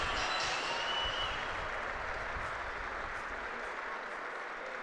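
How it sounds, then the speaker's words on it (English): A crowd applauds at a York Knights versus Trinity rugby league match, a broad, steady wash of clapping from the stands that fades slightly as it goes on. "Worms is going to get a great round of applause."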